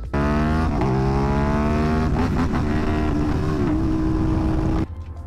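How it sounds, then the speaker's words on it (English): An Aprilia RS 660 motorcycle engine screams at high revs, a steady whine with rising harmonics, then power cuts out at around 9000 RPM from a broken clutch safety switch, leaving a lower idle rumble. "the engine power gets cut at around 9000 RPM and it looks something like this"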